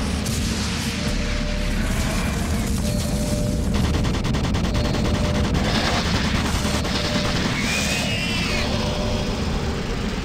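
Automated turret guns in Doom 3 rattle off dense, continuous bursts of gunfire, loud and close, with mechanical clatter and a steady rumbling bed throughout.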